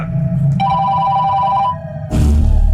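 A telephone bell rings loud and close in a Malayalam-dubbed action film scene, a steady ring lasting about a second before a burst of broadband noise cuts in.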